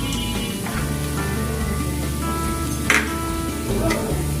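Onions sizzling in oil in a pan while cooking a Bengali fish curry of snakehead fish with bottle gourd, a steady close crackle with a couple of brief stirring clatters and no talk.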